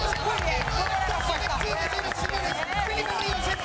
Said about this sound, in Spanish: ¡Un aplauso para Felipe Ríos!